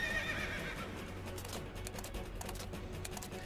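A horse whinnies loudly at the start, followed by a rapid rattling clatter of hooves and noisy rumble, with no talking; a video game cutscene from Final Fantasy XIII.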